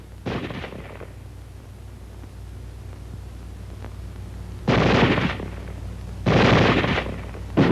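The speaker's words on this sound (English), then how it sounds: "Weapons giving automatic fire will fire continuously as long as pressure is applied to the trigger" Short bursts of automatic weapon fire crack out at close range, one brief burst followed by two longer continuous bursts separated by pauses, with a faint background hum.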